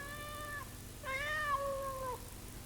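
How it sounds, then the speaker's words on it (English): A cat cries at a front door, giving two drawn-out meows, the second longer and louder, close and alone against a quiet background. "The cat was crying and sniffing at the door, hoping the woman would open it and let it in."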